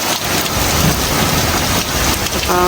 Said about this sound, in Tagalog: Grabe yung kulog oh.